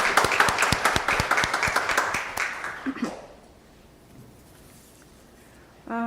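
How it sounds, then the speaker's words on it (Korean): Congregation at a Sunday church worship service applauding in welcome, a dense burst of clapping that fades out after about three seconds, leaving quiet room tone. "박수로다가 환영의 박수를 드리겠습니다."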